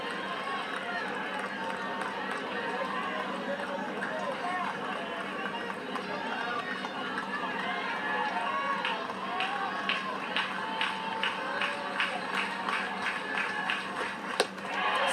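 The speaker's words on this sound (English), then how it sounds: "Sold out crowd celebrating a called third strike and a strike out to end the inning." A sold-out crowd at an Auburn vs Clemson women's softball game roars steadily after a strikeout ends the inning, with clapping growing sharper toward the end, under a commentator's voice.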